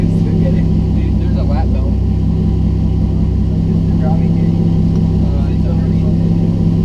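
A Chevy Cruze engine fitted with a FuelTech FT450 and a custom engine harness idles loud and steady, with a constant low drone throughout. People talk briefly over it.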